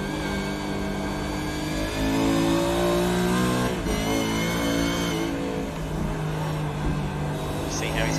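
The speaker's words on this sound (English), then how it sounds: "Oh, lovely sound purring out of that Ford Mustang." A Ford Mustang Supercars race car engine at Lime Rock Park in iRacing, revving and shifting through rising and falling pitches at a steady loud level, with a voice faintly talking underneath.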